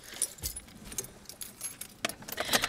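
A bunch of keys jangles in a series of bright, metallic clinks and rattles, close and irregular, with a car's faint rumble in the background.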